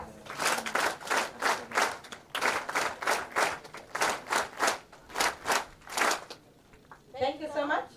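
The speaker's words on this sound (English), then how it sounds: "let us have 5 factorial clap to appreciate the presentation" Audience at a fourth-year career workshop doing a rhythmic factorial clap, crisp unison claps in counted groups with brief pauses between, followed by a short burst of speech.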